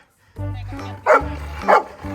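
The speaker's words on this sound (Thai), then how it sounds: "ทำเป็นได้แค่เห่าในกรงไอ้โบไอ้หมาขี้กระโปรง" A dog barks from inside a cage, two loud, close barks in the second half following a low growling or whining sound, with no other sounds.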